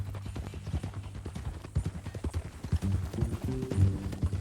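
A horse's hooves clip-clop in a steady walking rhythm in Red Dead Redemption 2, close and clear, with a low background drone and a brief snort near the end; no speech.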